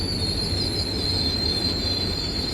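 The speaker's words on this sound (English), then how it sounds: "The brake squealing on these containers." Container train brakes squealing in a train simulator game on a Taurus Mountains route with a DE 24000 locomotive, a sustained high-pitched metallic squeal held steady over a continuous rumble of rolling wagons, loud and close, with no talk.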